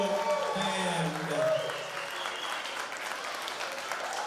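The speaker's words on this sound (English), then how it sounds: "Let's give these guys a round of applause." Applause from an audience at an elementary school ribbon-cutting ceremony, honoring the school band; steady, dense clapping from a room of people, fairly close and sustained throughout, with some voices mixed in at the start.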